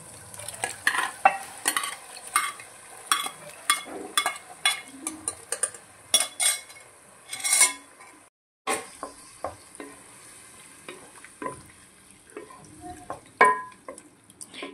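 Mutton frying in a tempering pan as a spoon stirs it: rhythmic scraping and clinking strokes over a steady low sizzle, close and fairly loud, with a brief pause partway through.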